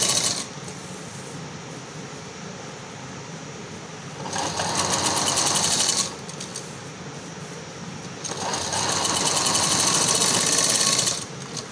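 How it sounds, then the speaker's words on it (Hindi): A sewing machine stitches the sleeve of a floral frock in two sustained, fast-clattering runs, with quieter pauses between them. "इस तरह आस्तीन को हम सिलाई लगाएंगे।"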